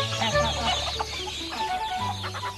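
A big colourful rooster on a moshav farmyard clucking and calling, short bursts over a low musical backing with no talk.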